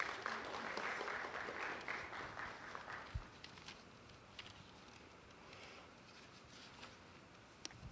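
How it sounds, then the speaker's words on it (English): Faint applause from an audience at a sewing graduation ceremony, a scattered patter of clapping that starts modestly and thins out over several seconds, with a few stray knocks. "So please give our graduates another round of applause."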